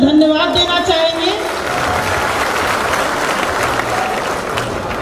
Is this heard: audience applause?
yes